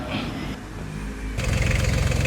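An ET 110 engine sounds faint and unsettled at first, then settles into a steady, low, rapidly pulsing chug that grows louder, heard nearby with no talking.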